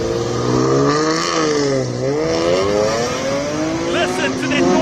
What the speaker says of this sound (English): Listen to that normally aspirated six-cylinder up the hill